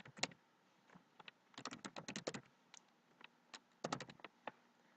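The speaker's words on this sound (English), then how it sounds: "So you can type your options here." Close, quiet typing on a computer keyboard in irregular bursts of quick clicks with short pauses between, alone with no talking.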